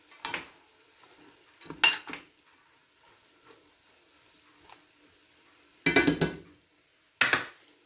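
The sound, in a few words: stirring vegetables in a pan for stir fry spaghetti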